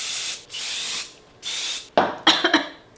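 Three short bursts of hair spray hiss onto dry hair at close range, followed by a coughing fit.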